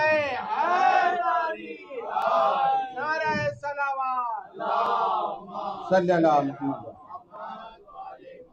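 A congregation at a 7th Muharram gathering reciting salawat together, many voices chanting loud, drawn-out phrases in unison with short pauses between lines.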